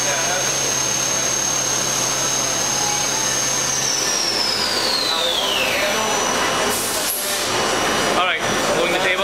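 A Leadwell V-60 vertical machining center's spindle spins at 10,000 RPM with a steady high whine that glides downward as it slows. Loud machine-shop hum fills the background, and people talk over it.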